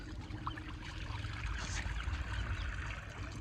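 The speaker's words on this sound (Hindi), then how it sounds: "चलें भाई पानी भी डाल देते हैं इनको।" Water trickles and pours softly in a steady stream nearby as it is poured out for chickens and ducks, over faint low background rumble.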